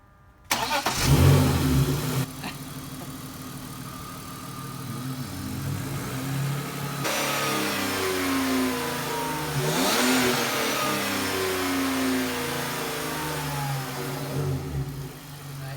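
A car engine starts and revs, then accelerates loudly through several rising surges while driving, holding a steady close drone throughout with no talk.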